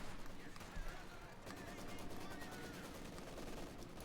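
Machine gun fire in a World War II battle in the game Company of Heroes 2, rapid repeated bursts at a steady pace under a dense mix of battle noise with a voice talking.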